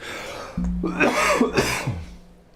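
A single person coughs and clears their throat close to the microphone during a casual live stream, giving a couple of harsh bursts over about two seconds with a low vocal rumble underneath.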